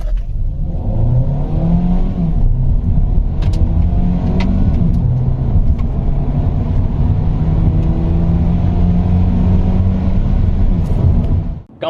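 A seventh-generation Hyundai Elantra Hybrid accelerates from 0 to 100 km/h, its engine and motor droning loudly and steadily as the revs climb and shift through the run, with road rumble underneath.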